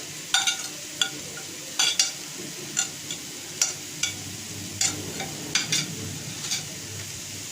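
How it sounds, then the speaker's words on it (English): Finely cut vegetables, including white cabbage, are stir-fried over a raised flame for a Chinese-style vermicelli snack. A soft sizzle runs underneath, broken by regular sharp scrapes and clinks of the utensil against the pan, about every half second to a second. "we slightly raise the flame and we give it a quick stir"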